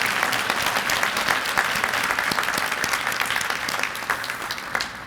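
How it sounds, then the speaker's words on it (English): Adults and students clapping together at a school event, a steady burst of applause from a large group that holds for about five seconds, with a few louder claps standing out near the end. "let's have all the adults give the biggest applause that we can"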